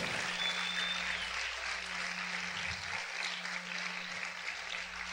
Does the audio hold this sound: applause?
yes